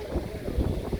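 Wind blows across an outdoor car market in Osh, buffeting the microphone with a steady low rumble and rushing noise that never lets up.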